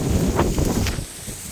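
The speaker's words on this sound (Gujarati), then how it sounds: "જો આ વાતાવરણ કંઈક વરસાદ જેવું ને પવન પણ છે." Gusty wind blows across rain-flooded farm fields, buffeting the microphone with a rough low rumble that eases off after about a second.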